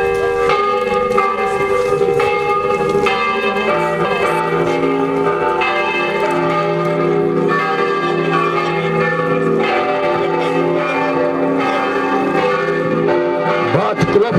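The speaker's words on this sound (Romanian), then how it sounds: "bat clopotele Munteniei, bat clopotele Basarabiei, bat clopotele Bucovinei" Church bells in Berești-Tazlău, Moldova, Romania, ring loudly and continuously for Union Day, overlapping tolls blending into a sustained, resonant peal close to the listener.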